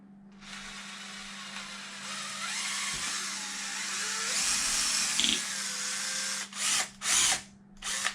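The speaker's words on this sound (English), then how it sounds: "and then I'm drilling it" A power drill whirs steadily at close range as it drills into a wheel rim, its pitch rising under load, then cuts into short on-off bursts near the end.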